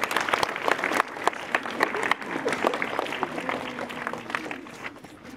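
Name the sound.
round of applause at school assembly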